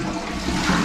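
Tap water runs steadily in a bathroom of a budget guesthouse in Musanze, Rwanda, a close, continuous hiss and splash with no talk.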